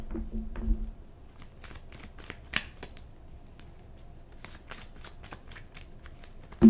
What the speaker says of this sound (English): I'll shuffle it once more, and then I'll cut it right down the middle.